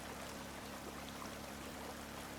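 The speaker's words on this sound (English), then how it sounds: "Pump the water into this pocket, have this pocket push the water into the river." Water being pumped and flowing in the video game Drain Sim, a continuous soft rushing and trickling wash, faint and steady throughout.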